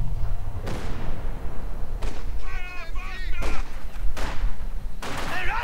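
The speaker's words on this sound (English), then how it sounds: "heavy machine gun fire to shoot down aircraft" Heavy machine gun fire in a Company of Heroes 2 match, from an anti-aircraft half-track shooting at aircraft: loud repeated bursts of gunfire with booming thuds, mixed with in-game sound effects and brief radio-style unit chatter.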